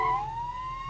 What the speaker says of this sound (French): Tu entends les sirènes?